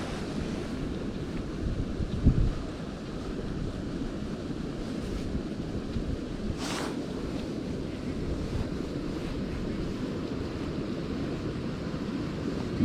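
Steady outdoor wind buffets the microphone on an open field, a constant broadband rush that stays loud throughout with one faint brief whoosh midway and no speech.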